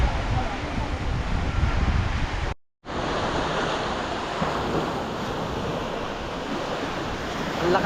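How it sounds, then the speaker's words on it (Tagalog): Strong ocean surf at Umbrella Rock in Agno, Pangasinan, a loud continuous wash of crashing waves mixed with wind buffeting the microphone, briefly cutting out before resuming. "Ang lakas ng alon."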